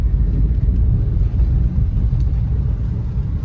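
A 2015 Maruti Suzuki Swift petrol car pulls uphill in second gear, its engine a loud, close, steady low rumble with no pauses and no voices over it.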